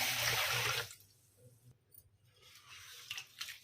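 Moong dal being rinsed in water: a loud, close swish of water for the first second, then quieter handling with faint splashes and clinks.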